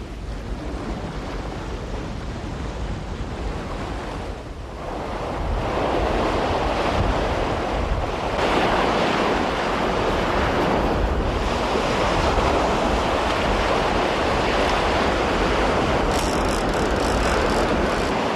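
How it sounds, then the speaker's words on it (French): Strong east wind roars across a beach while surf breaks steadily, a loud continuous wash of waves and buffeting wind noise on the microphone, with no talk. "Ouais, parce que là vraiment il y a trop de vent."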